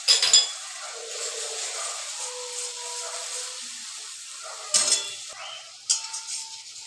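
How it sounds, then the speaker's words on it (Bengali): Tomato paste frying with cumin, turmeric and chilli powder: a steady close sizzle and hiss. A couple of sharper bursts come as the pan is stirred, and there is no talk. "টমেটো পেস্টটা ভালো করে ভাজবো।"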